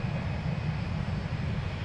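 An Airbus A350 jet takes off at Minneapolis–Saint Paul airport, a steady, distant broadband roar with a low rumble that holds evenly throughout, no voices.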